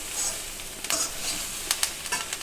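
Roasted bell pepper and coconut are stirred in a pan with the gas switched off, giving a steady soft sizzle and a few scraping strokes, close and continuous, with no talking.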